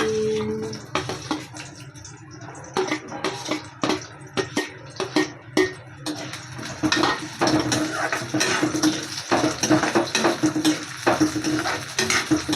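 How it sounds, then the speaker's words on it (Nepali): Onion fries in hot oil in a karai (wok) with a steady sizzle, while a metal utensil stirs and scrapes the pan in repeated clattering strokes close by. "तेल गरम भइसकेपछि चाहिँ मैले प्याज हालिदिएँ।"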